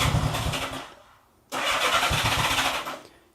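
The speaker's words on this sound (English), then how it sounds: "Here's an example of it starting warm. I'm going to give it no throttle." A 1975 Honda Goldwing motorcycle engine with four carburetors cranks and catches, cuts out for a moment, then fires again and runs on its own without throttle before fading, close and loud with no talking.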